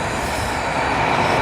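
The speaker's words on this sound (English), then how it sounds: "You got the trams down here." A tram running through the streets of Bergen, Norway, rolls past with a steady, loud rumble of wheels on rails and faint squealing. It sounds close and continuous, and no voices are heard.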